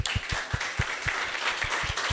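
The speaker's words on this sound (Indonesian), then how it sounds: "Tepuk tangan dulu." Students at a school talk show applaud, a steady spread of clapping with low thumps recurring underneath at a moderate distance.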